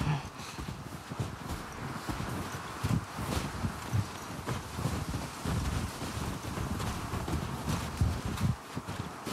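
Horses walk with steady, unhurried hoof clip-clops in The Last of Us Part II, soft and a little distant over a windy outdoor background.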